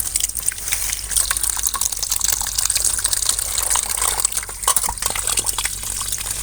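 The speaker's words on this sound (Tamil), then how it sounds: "இப்போ நம்ம இந்த மூலிகைகளை ஃபுல்லாக அலசி எடுத்துக்குவோம்" Herbs are rinsed in water, a continuous close splashing and gushing of liquid with small drips and sloshes throughout.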